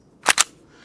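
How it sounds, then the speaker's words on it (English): Metal-and-polymer Springfield Armory XDM blowback airsoft pistol taking a magazine: two quick, sharp close clacks in rapid succession, then quiet. "So you drop the mag in,"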